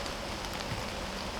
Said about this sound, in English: So with the rain, I don't feel like getting soaked and getting my camera equipment soaked